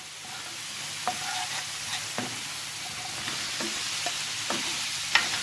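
Carrots fry in a pan for a carrot salad, with a steady sizzle running throughout and occasional scrapes and clicks as they are stirred, close up and without voices.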